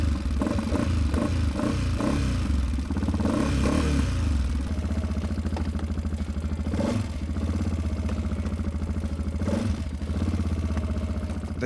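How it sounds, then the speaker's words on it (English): A Sharmax QJ Motors Force 800 ATV engine runs steadily nearby with a loud, rumbling, slightly clattery idle, revving briefly a couple of times. "The sound of the engine is solid and a bit loud."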